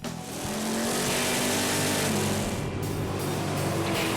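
A 1987 Buick GNX accelerating hard, its engine note loud and steady throughout as the car pulls away with a sustained roar.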